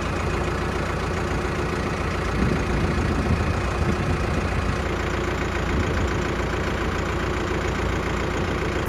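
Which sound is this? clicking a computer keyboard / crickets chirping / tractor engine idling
tractor engine idling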